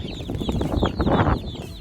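Several chickens cluck in short, busy bursts close by, with no one talking.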